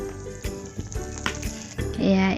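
Onions, ginger-garlic paste and two green chillies frying in a pan, a near sizzle punctuated by quick spoon scrapes and knocks, swelling into a louder hiss at the end.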